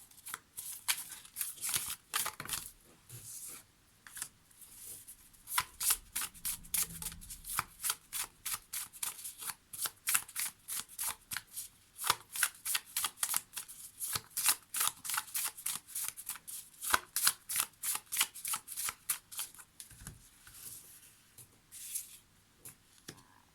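A deck of oracle cards is shuffled repeatedly at close range, producing a long run of crisp, rhythmic riffling bursts with short pauses between them and no speech.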